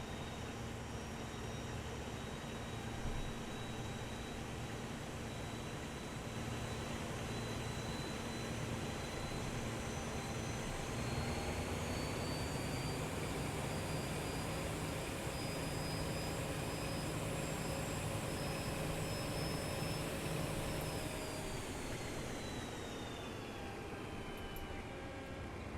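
A train rolls through the station throat at Blackpool North in Train Simulator 2020, a steady loud engine and traction drone with tones that slowly rise and then fall near the end, continuous throughout with no talk.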